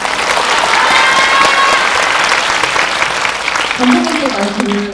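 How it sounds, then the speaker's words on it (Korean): An audience at a film screening cheers and applauds, a loud, continuous wash of clapping and shouting that holds steady throughout. A voice sings or calls out near the end. "환호해 주셔서 감사합니다"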